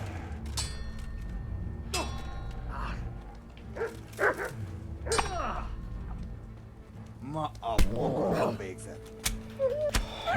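A hostile dog in Kingdom Come: Deliverance barks, growls and whimpers while attacking, with several sharp bursts and thuds of combat amid game sounds and someone talking over it.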